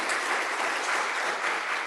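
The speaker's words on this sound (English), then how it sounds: "Yes, clap." A congregation at a Sunday church service bursts into warm applause after a sung piece, a dense even wash of clapping that holds steady and fills the room for the whole stretch.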